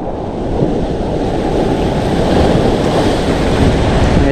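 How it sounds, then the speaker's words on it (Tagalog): Rough, churning ocean waves surge continuously, with steady wind buffeting the microphone and no voices. "Medyo magalaw yung alon"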